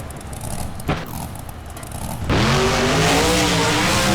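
Scarlet Bandit, a monster truck in BeamNG, lands after a jump off the center ramp. Early engine noise and a sharp thud give way to a loud, sustained roar of revving engine and tires.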